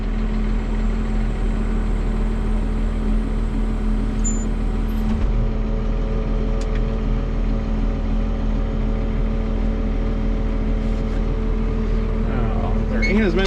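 An Oliver tractor engine runs steadily throughout at close range, a continuous low idling rumble with no pauses, after sitting unused for three to four days in roughly 70-degree weather.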